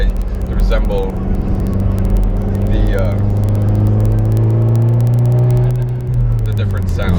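A catless turbocharged 1.4-litre Dodge Dart exhaust drones and rumbles loud and close, its pitch climbing through revs before easing off near the end.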